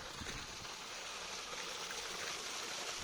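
A waterfall pours as a steady, dense rush of water, loud and unbroken throughout.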